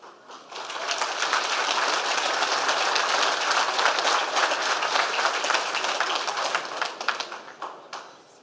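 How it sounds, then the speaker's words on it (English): Audience clapping breaks out at a city planning and community affairs committee meeting, a dense sustained applause that swells quickly, holds steady, then tapers off. "so I've asked twice for no clapping"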